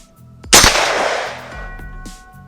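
A single Mossberg 500 shotgun blast fired at a 20-yard target, a sharp loud crack that rolls into a long decaying boom over about two seconds, with faint background noise around it.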